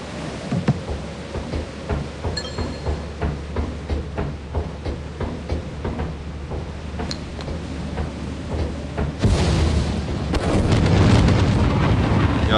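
In the video game Lethal Company, steady rain patters with faint rumbles until a lightning strike bursts in with a loud crack, followed by sustained heavy thunder.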